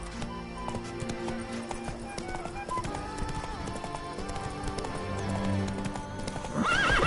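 A horse galloping in The Witcher 3: Blood and Wine, with rapid rhythmic hoofbeats pounding close and steady under game music and a neigh near the end.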